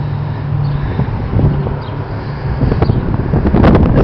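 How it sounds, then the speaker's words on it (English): Loud, gusty wind buffeting outdoors, a continuous rumbling rush with flapping and rustling that rises toward the end. "It's the wind!"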